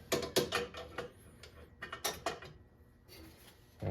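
A hand wrench ratchets while bolts on a C5 Corvette racing oil cooler are tightened, several quick clicking bursts in uneven runs, close and fairly quiet, with no talking.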